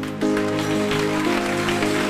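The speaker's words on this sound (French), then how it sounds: "Applaudis Jésus" A church congregation applauding, a continuous wash of many hands clapping over sustained organ or keyboard tones, fairly loud and steady throughout.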